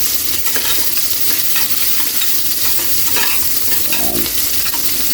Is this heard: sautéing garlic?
yes